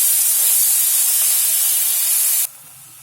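Ground chilli and garlic-ginger paste go into hot oil in a pan and give a loud, close, steady sizzling hiss that drops off sharply near the end to a much quieter simmer.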